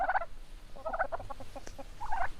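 Several turkeys gobble in quick rattling bursts, one after another, fairly close, with a short pause between calls.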